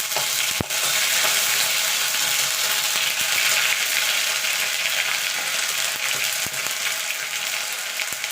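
Whole cumin, a dried chilli and ginger crackle in hot oil for tempering, a loud, continuous close sizzle with occasional sharp pops and faint utensil clicks.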